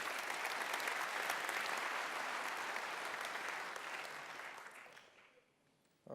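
Audience applause at a blockchain tech talk at TU Delft as a keynote speaker is welcomed, a dense steady clapping that holds for several seconds before fading away, ending in a brief sound at the close.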